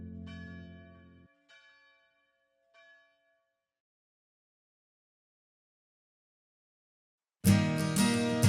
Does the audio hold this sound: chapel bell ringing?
yes